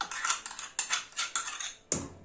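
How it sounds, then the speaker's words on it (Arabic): A spoon stirs and scrapes a pot of cream, milk and whipped cream for a wheat-and-nut dessert, making a series of close, clinking, scraping strokes in uneven bursts with short pauses between them. "نقلب بقى قشطه لبن وكريم شانتيه ولبن حليب"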